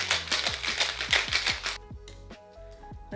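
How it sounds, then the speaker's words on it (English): Ice cubes rattled hard in a cocktail shaker with two ounces of rum for a Game of Thrones-themed drink: fast, rhythmic clattering up close that drops off sharply partway through, with no talking. "Now put some ice into your shaker and shake it."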